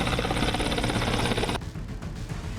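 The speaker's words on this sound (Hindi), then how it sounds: "भारतीय वायुसेना के ताकतवर लड़ाकू विमानों और हेलीकॉप्टर्स ने एक के बाद एक उड़ान भरी" Indian Air Force helicopters taking off from the Ganga Expressway in Shahjahanpur give a loud, continuous rotor roar. The sound shifts abruptly partway through but stays heavy and close.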